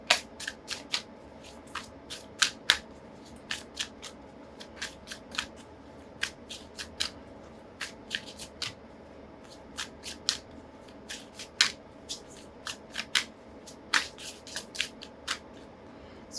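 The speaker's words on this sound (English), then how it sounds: "So while I was just shuffling these cards" Tarot cards are shuffled close up in quiet, crisp bursts of rapid riffling taps, repeating irregularly over a faint room hush with no talking.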